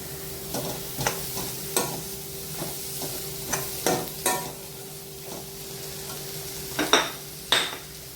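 Chopped tomato cooks in a pan for egg bhurji with a low sizzle beneath repeated spatula strokes and scrapes, about a dozen irregular stirs, some louder toward the end.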